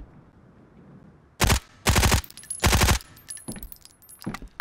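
An NPC fires at the player in the video game Road to Vostok: several loud, sharp bursts of automatic gunfire, followed by a few fainter, more distant shots.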